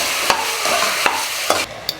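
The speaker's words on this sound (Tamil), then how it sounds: "இந்த மாதிரி கறியை நல்லா வதக்கிடுங்க, அப்போ தான் இந்த பச்சை மணம் போகும்" Mutton being stirred and sautéed in masala in a hot pan for a bone curry, a steady loud sizzle broken by several sharp scrapes of the spoon, close up with no voices.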